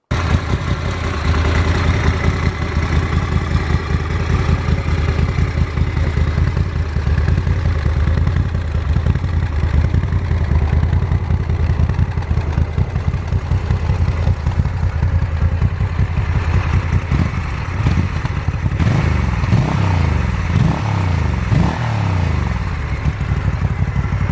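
A Moto Guzzi Flying Fortress MGX-21 bagger motorcycle engine runs steadily throughout, with a loud, close, throbbing idle and some mechanical clatter. Near the end there are a few brief revs.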